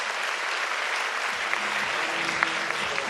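Sustained, loud applause from an audience, continuous clapping with faint murmuring voices underneath.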